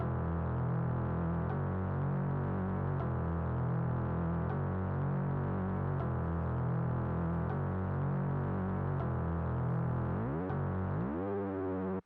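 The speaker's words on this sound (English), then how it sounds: "I had this bass which is called Dirt Move, and I just laid down this pretty simple pattern." A deep synth bass preset called Dirt Move plays a simple repeating pattern with a steady pulsing rhythm, then slides in pitch near the end. It is loud and continuous, with no voices.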